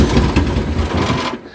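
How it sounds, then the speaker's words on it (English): Damaged Honda Accord from a demolition derby, engine starting then running rough and sputtering loudly close by with a dense low rumble, cutting out abruptly near the end and falling to near silence. "See, it like starts right up and then dies."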